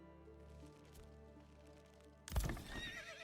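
In the Manor Lords video game a horse sounds off, with soft hoof clops and a faint neigh under quiet game ambience, then a sudden loud burst of noise near the end.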